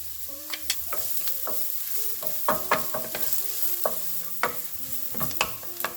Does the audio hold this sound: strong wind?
no